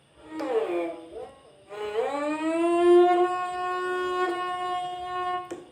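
A freshly tuned rabab's first string bowed in a few long sustained notes, rich and slightly wavering in pitch, near and clear with no talk over it.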